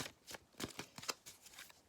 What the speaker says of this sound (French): je reprends les cartes